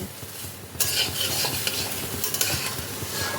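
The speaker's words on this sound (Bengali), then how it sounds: "চাল আর ডাল দিয়ে মশলার সাথে ভালো করে মিশিয়ে নিতে হবে" Gobindabhog rice and lentils stirred with spices in hot oil over low-to-medium heat for bhuna khichuri: a continuous sizzle with busy scraping stirs that grow louder after a quiet start, close by, with no talk.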